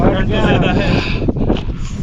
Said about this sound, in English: My God, it is so windy over here right now.